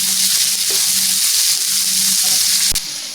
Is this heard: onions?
yes